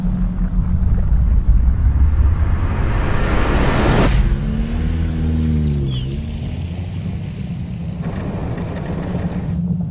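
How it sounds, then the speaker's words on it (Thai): A car engine revs and accelerates in a deep, loud rumble that swells and sweeps past midway, then settles into a steady drone. "ฟังให้ดีนะดูเร่งเครื่องแล้วก็เลี้ยวไปทางซ้าย"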